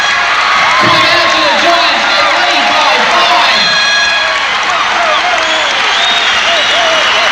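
Basketball crowd roars and cheers during a timeout at a 1993 NBL quarter-final between the Perth Wildcats and North Melbourne Giants: a loud, continuous wall of cheering, whoops and shouts filling the arena throughout.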